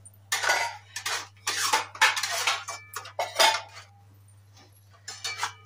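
Tomato paneer masala with sugar is stirred in a pan, a run of close metallic scrapes and clanks in uneven bursts separated by short pauses, with no sizzle or voices.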